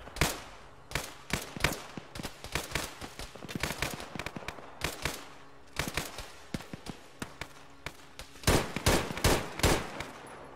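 Enemy gunfire in Arma 3 during an airborne counter-insurgency operation: sharp single shots and quick bursts crack out steadily, some near and punchy, others thinner and more distant, with a heavier cluster toward the end.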